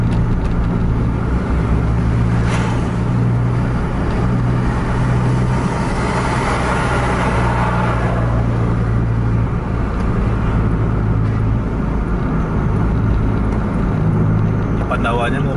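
A car at night accelerates to overtake the Pandawa 87 bus, a Mercedes-Benz coach running Jakarta to Aceh, with a steady loud engine and road roar throughout and people talking over it.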